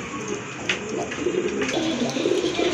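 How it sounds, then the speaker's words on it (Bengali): A pair of large Muslodom pigeons coo softly and repeatedly at close range, with low murmuring calls over a steady background hum and faint chirps from other birds. "দেখেন আরেক জোড়া কবুতর, মুসলদম কবুতর, খুবই সুন্দর, অনেক বড় সাইজের কবুতর।"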